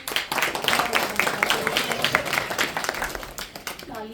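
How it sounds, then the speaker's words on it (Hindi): An audience at a devotional gathering claps in a dense, uneven patter of many hands, fairly close and lively throughout, with a voice speaking over the clapping. "तालियां सिर्फ प्रभु जी की हैं,"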